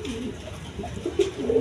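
Caged pigeons giving soft, low coos, a few repeated calls close by over a faint background murmur.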